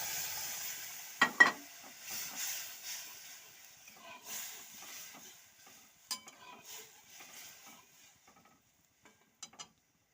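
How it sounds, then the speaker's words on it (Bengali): Whole spices crackling and sizzling in hot oil as dal is tempered, with faint stirring and clinks, bursts of spluttering then quieter sizzle, close by in a home kitchen. "এবারে ডালটা ফোড়ন দিয়ে নিচ্ছি।"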